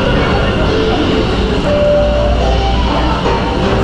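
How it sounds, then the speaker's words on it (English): An express train arrives at a station in Taiwan with a loud, steady rumble and hiss that stays constant throughout, plus a brief tonal whine partway through; no one speaks. "This is the express train."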